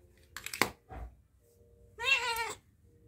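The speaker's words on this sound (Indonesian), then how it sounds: "Nah, kucing bengal adalah salah satu jenis ya." A cat meows close by: a couple of short chirpy sounds, then one drawn-out, wavering meow in a quiet room.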